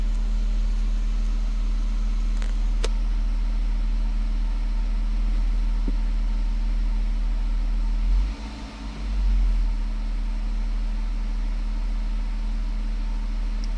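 A 2013–2015 Jeep Grand Cherokee engine idles steadily after a wiring harness repair, a smooth low hum holding constant throughout with a brief swell near the end.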